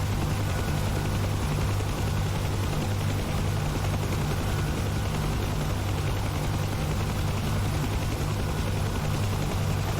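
Steady, loud drone of a Huey helicopter taxiing in the DCS flight simulator game, with a constant low rotor and engine hum and no pauses, heard alone without any talking.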